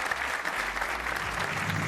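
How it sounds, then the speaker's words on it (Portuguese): Studio audience applause on a Portuguese television game show, a brief burst of steady clapping from the crowd lasting under two seconds with no speech over it. "um aplauso para o nosso João"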